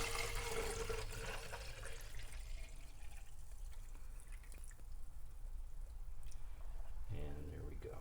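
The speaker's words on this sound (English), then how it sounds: "And I'm just going to fill the rest up with water." Water runs into the removable tank of a De'Longhi Dedica espresso machine during descaling, a steady trickling pour that thins partway through and then swells again near the end.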